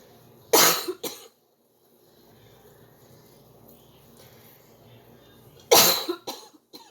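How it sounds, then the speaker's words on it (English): Two loud, harsh coughing fits sound close by, several seconds apart, with quiet murmuring in between. "Still got this nagging cough."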